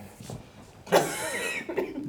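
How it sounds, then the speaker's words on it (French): A single harsh cough from a woman bursts out, close and fairly loud, followed by a brief rasping catch of breath, with quiet room sound before and after, during a stage performance of Molière's Tartuffe. "Vous toussez fort, madame."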